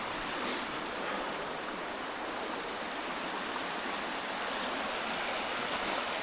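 Creek water on a remote Pennsylvania camping trail flows in a steady, close rush of broadband wash. It stays continuous and fairly loud for the whole stretch, with no talking over it.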